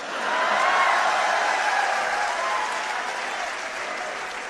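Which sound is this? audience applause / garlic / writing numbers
audience applause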